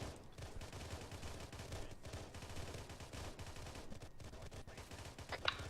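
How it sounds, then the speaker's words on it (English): Rapid bursts of automatic rifle fire during a fleet training exercise, sustained crackling gunfire that runs through the whole stretch like a machine gun, with loud cracks and a denser volley near the end. "Auto rifleman, it's a machine gun."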